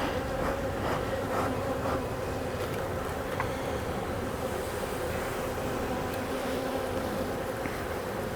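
Dense, steady buzzing of bees in an opened, fairly new beehive during a hive split, a continuous close insect drone filling the whole stretch with no talking.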